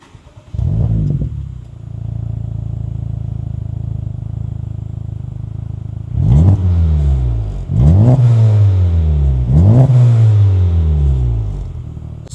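A 2024 Acura Integra Type-S with an A'PEXi N1-X valved catback exhaust in quiet mode starts up, settles into a steady idle, then gives three sharp revs that rise and fall, close and loud.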